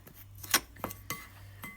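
Cake batter being mixed by hand in a bowl, heard as a few faint clinks and scrapes of a utensil against the bowl, spaced irregularly in a quiet room.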